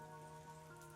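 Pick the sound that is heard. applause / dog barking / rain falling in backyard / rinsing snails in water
rain falling in backyard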